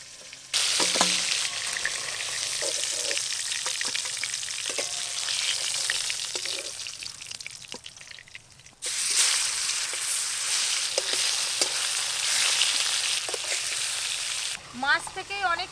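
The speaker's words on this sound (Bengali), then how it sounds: "আর তো ওই তেলেই মাছ ভাজা হয়ে যাচ্ছে" Pangas fish sizzling and frying in the oil released from the fish itself, a loud, steady crackle throughout with a brief break partway and faint stirring or clatter near the end.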